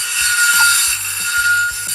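A circular saw arrow spinning in the video game Ragdoll Archers, giving a steady whirring buzz with a regular pulsing rhythm of repeated cuts, loud and alone.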